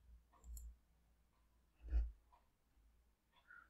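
Computer mouse clicks during a software setup session: a few soft, isolated clicks spaced about a second and a half apart, faint and close, in a quiet room with no talking.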